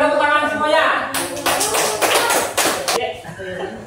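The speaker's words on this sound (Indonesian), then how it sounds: "tepuk tangan semuanya" A school class claps together in a classroom, a burst of many hands lasting about two seconds, with a teacher's voice speaking just before and over the clapping.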